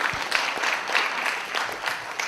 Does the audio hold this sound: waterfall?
no